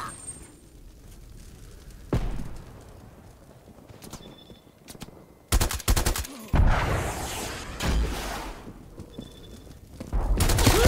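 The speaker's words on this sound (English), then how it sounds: "This fucking sentry turret on the left." Automated sentry turret firing in the Call of Duty: Cold War hardcore team deathmatch, bursts of rapid gunfire, loud and close, in clusters across the clip, with an intermittent low rumble between bursts.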